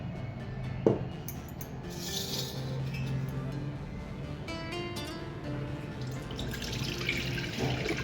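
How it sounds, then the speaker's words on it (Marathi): Water drained off soaked rice batter trickles and splashes into a metal pot, with a sharp clink near the start and light clatters of vessels along the way. "हे आपण पाणी आता काढून घेऊया पातेल्यात"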